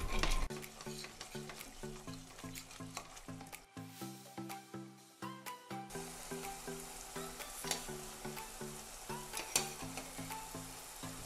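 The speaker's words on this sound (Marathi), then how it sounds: "दही घातल्यावर चटणी सतत हलवावी." Garlic chutney with fresh yogurt stirred constantly in a pan over a low flame, repeated rhythmic scraping and knocking of a spoon against the pan over a faint sizzle, with a brief quieter stretch partway through.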